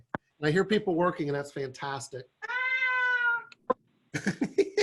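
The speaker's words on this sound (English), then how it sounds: "Oh, that's my cat." A pet cat meows once, a clear drawn-out call close by, set between bursts of someone talking indoors during a book arts lesson.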